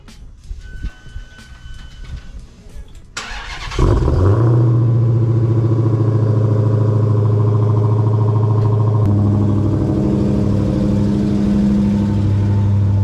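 Supercharged Dodge Hellcat cold start: quiet clicks and rustling, then the engine cranks and catches at once into a loud, steady, deep idle with supercharger whine, the pitch stepping down slightly as it settles.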